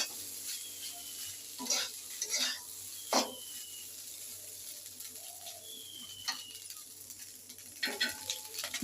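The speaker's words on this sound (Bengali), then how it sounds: "ভাতটা এবারে ভালো করে আমি ফ্রাই করে নেব।" Rice frying in a pan with egg and potato gives a faint, steady sizzle, broken by a few scraping and clinking stirs, while birds chirp in the background.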